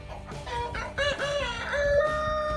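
Chickens cluck and squawk nearby while a rooster crows over them, several birds calling and overlapping without pause.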